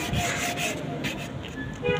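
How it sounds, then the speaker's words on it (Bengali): A sanding machine grinds over a carved wooden bed frame in a continuous, close, rough rasping drone that stays steady throughout. "এই যে দেখেন মেশিন করে ডলতেছি"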